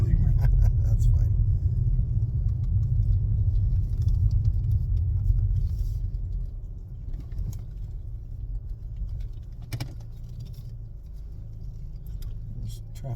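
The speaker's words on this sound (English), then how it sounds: "There's traffic right on top of you now." Road traffic rumbles loudly close by, heaviest at first as vehicles pass near, then easing to a steadier low drone with a few brief clatters.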